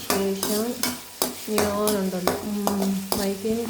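Vegetables sautéing in a pan for a rice dish: sharp stirring scrapes repeat roughly twice a second over a steady close sizzle, with a low tonal hum running underneath.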